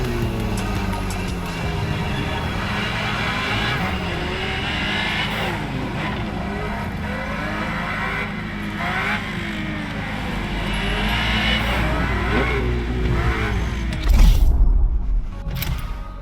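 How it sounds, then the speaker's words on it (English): A Ferrari GTO, the first Ferrari supercar, races in The Crew Motorfest, its engine revving steadily with rising and falling gear sweeps, plus brief tire squeal and a louder surge near the end. "The car you're about to drive in this opening event is none other than the first Ferrari in the supercar bloodline, the Ferrari GTO."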